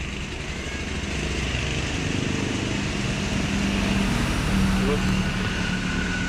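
A carbureted Yamaha Xeon motorcycle engine runs steadily at idle, a continuous close mechanical drone with a faint rise in level partway through.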